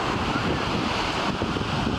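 Ocean waves and wind at a beach, a steady full roar of surf with gusty wind buffeting the microphone, loud and continuous with no talk.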